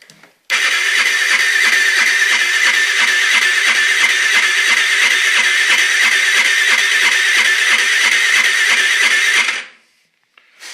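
A small four-stroke Chinese scooter engine that has trouble starting cranks steadily and rapidly for about nine seconds during a compression test without catching, a loud, even rhythmic churning, then stops abruptly.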